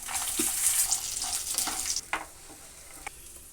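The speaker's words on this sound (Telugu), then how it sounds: "ఇప్పుడు పల్లీలు వేస్తున్నాను" Peanuts are tipped into a hot pan for capsicum chutney and fry with a loud, close crackling sizzle that eases after a couple of seconds, with a few sharp stirring clicks and no speech.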